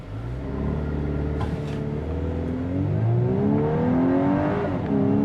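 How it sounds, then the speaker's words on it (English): A 2024 Volkswagen Atlas 3-row SUV in sport mode pulls hard from a brake-torqued launch during a 0 to 60 run, its engine note climbing steadily through rising revs with a brief shift dip, loud and continuous inside the cabin. "But let's go ahead and actually try another 0 to 60 here."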